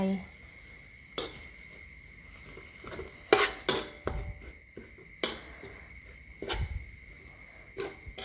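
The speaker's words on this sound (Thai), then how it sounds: "ผัดรวนให้น้ำพริกขึ้นฟูค่ะ" Thai curry chili paste stir-fried in a pan for a pork belly curry, with soft sizzling and intermittent sharp scrapes and clinks of a utensil against the pan.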